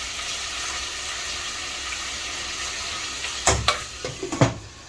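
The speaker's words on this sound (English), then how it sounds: "And let it simmer." Long grain brown rice simmering in a covered pot, a steady low bubbling hiss throughout, broken near the end by a few close clinks and knocks.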